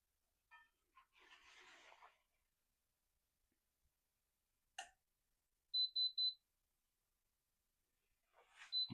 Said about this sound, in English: That's the second beep.